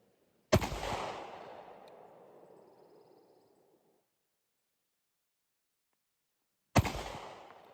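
Two sharp, loud handgun shots from a Shield 9 Plus pistol at a shooting range, each a single crack with a long echoing decay, several seconds apart with silence between.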